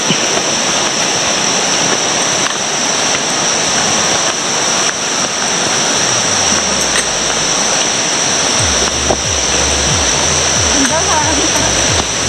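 Rushing river water roars continuously, loud and close, with splashing near the end as people cross through it.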